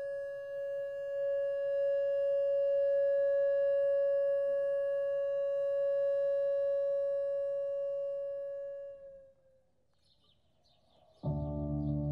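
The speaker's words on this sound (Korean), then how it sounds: "잠시 후 10시부터 1분간 제주도 전역에 묵념 사이렌이 울릴 예정입니다" A steady memorial silence siren sounds across Jeju during the April 3 commemoration, a long sustained wail that fades out, followed by a loud burst of other sound.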